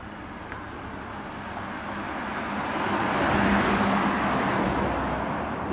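An electric Porsche passes on a road with a smooth tyre-and-motor hum and no engine note, rising gradually to a peak and easing slightly as it goes by, moderately close.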